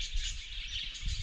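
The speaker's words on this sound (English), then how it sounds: "Budgies." Budgies chirp in an outback setting, their high twittering chatter blending into a soft, continuous chorus, faint and somewhat distant against low wind noise.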